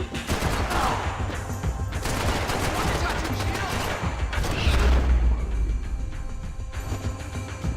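Sustained bursts of gunfire from the video game Max Payne 3, loud and dense throughout with heavy booming impacts mid-way, overlapping shots layered over a steady noisy background.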